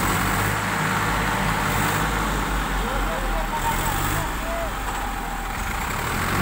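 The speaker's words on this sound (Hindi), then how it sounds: "अब देख सकते हैं दो ट्रैक्टर टोचन किया गया है इसमें, पहला ट्रैक्टर इधर, दूसरा है।" Two tractors run together in the open, one towing the other. Their engines give a steady, loud low rumble throughout, with some broadband road-like noise and no clear speech.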